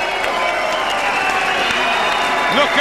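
A Bridgend boxing crowd applauds and cheers at the end of a British featherweight title defence. The clapping is a dense, steady roar throughout, with a commentator's voice running over it.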